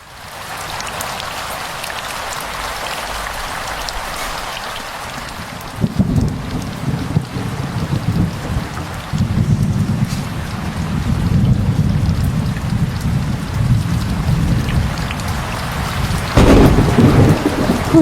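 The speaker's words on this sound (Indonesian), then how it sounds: "Hujannya kok semakin deras?" Heavy rain pours steadily while deep thunder rolls in midway and grows louder, with a sharper crack near the end, no voices.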